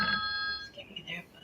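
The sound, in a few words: phone ringing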